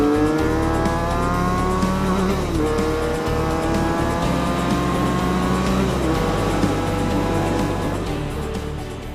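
A Benelli BN 302 motorcycle engine under way on a winding road, a continuous sporty whine that climbs through the revs, briefly drops at gear changes, then rises again. It stays loud and close throughout, with no talking.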